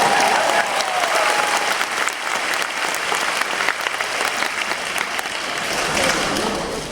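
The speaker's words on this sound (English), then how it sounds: "Give yourself a big round of applause." Sustained, fairly loud audience applause at an inspirational talk event, a thick steady wash of clapping with scattered voices and cheers.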